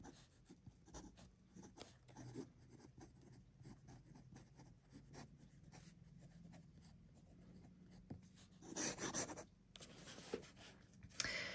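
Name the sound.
writing on paper with a dip fountain pen nib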